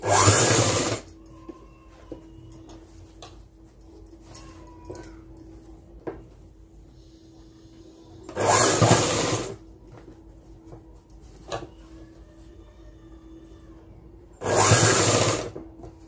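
A sewing machine stitches the bodice of a school uniform skirt-dress in three short loud bursts, each about a second long, separated by long quiet pauses with faint handling noises.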